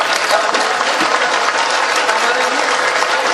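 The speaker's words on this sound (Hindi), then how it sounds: "एक बार जोरदार तालियां बजा दीजिए आप अपने लिए और मेरे लिए।" Dense, loud audience applause at a mushaira poetry gathering in Deoband, a steady wash of many hands clapping together without a break, with faint crowd murmur underneath.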